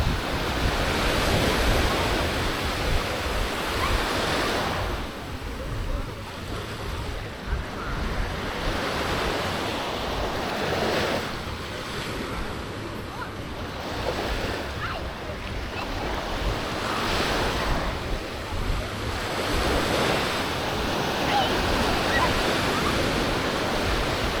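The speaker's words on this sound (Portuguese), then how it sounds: "Só o barulho do mar." Sea waves roll in and break on the sandy beach at Canasvieiras on a sunny December day, a steady loud surf with repeated crashes and wind noise, alone without talk.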